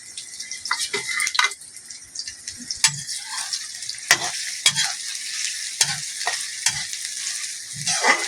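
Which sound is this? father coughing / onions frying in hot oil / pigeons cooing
onions frying in hot oil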